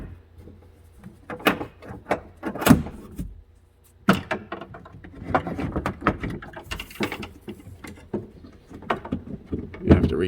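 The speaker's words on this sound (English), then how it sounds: "And this whole assembly will come out. Pull the cable through the door." A 2017 Lincoln MKC right front door handle assembly and its cable are pulled out of the car door, giving a string of close plastic clicks, rattles and scraping mechanical knocks that vary in loudness.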